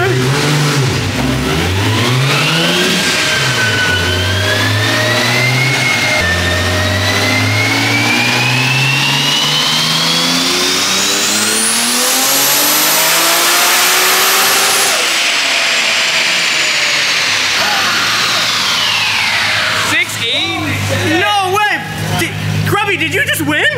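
A Toyota Supra's engine revs hard during a dyno power run, pitch climbing steadily through a long pull to a high scream, then dropping off and settling, with people talking and cheering over it.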